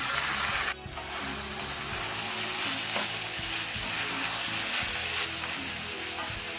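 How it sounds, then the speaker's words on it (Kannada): Cut cabbage and mixed vegetables fry in a pan for noodles, giving a steady, loud sizzle with scraping and stirring sounds throughout, and a brief clatter near the start. "ತರಕಾರಿಗಳು ಸ್ವಲ್ಪ ಫ್ರೈ ಆಗ್ತದಂಗೆ ಕಟ್ ಮಾಡಿ ಇಟ್ಕೊಂಡಿರೋ ಎಲೆಕೋಸು ಹಾಕೊತಾ ಇದ್ದೀನಿ"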